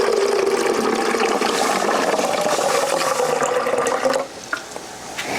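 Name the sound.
pouring water into a coffee machine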